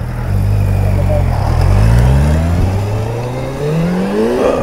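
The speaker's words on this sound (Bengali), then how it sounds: "সো ভাই বাইকটার এক্সস্টের সাউন্ডও লাইক ওয়াও" A Kawasaki Ninja ZX 800cc motorcycle revs its exhaust up close. The engine note drops, then climbs in pitch through several rising sweeps, loud and steady throughout, with no voices.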